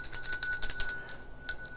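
A notification bell sound effect: a quick run of bright, high chimes rings loudly, pauses, then chimes again near the end, with no talking.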